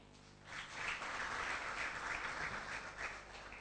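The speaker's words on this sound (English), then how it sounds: "Let's give a round of applause to all the contestants who have made this once again." Applause from an audience honouring the contestants at a staged event, steady broadband clapping that swells in after a quiet start and holds at moderate distance.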